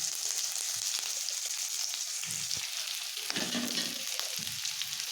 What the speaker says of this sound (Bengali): এখন দিয়ে দিচ্ছি পেঁয়াজ যে অল্প পরিমাণ পেঁয়াজ আমি পাতলা করে বানিয়ে রেখেছিলাম সে পেঁয়াজটা দিয়ে নিচ্ছি